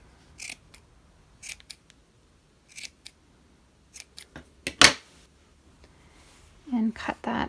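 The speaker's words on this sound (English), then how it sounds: "So just take your scissors" Several crisp snips of scissors cutting yarn, spaced irregularly with quiet gaps between, close up.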